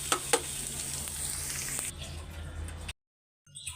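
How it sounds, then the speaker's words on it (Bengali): Pabda fish frying in hot oil gives a close, busy sizzle with sharp popping spatters, fading quieter toward the end before a short silence and a brief return. "মাছটা ভাজছি, এত ঠাস ঠুস ফাটছে, ওরে বাবারে, তেল হাতে ছিটে এসে ভরে গেছে।"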